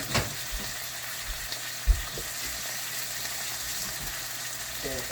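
Boneless chuck roast searing in a hot pan, a steady broad sizzle with a few faint thumps and knocks underneath, close and continuous.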